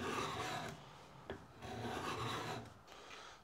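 A sharpened card scraper rasps along an old wooden handle in a series of steady, close scraping strokes with short pauses between them.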